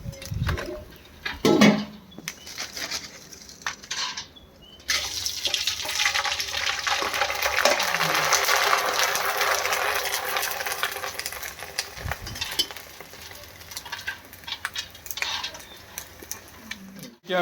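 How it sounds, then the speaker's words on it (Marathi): Fasting papad deep-frying in hot oil: a steady, dense bubbling sizzle that rises and holds for several seconds, with someone speaking at times. "पापड्या तळीत आहोत फराळाच्या"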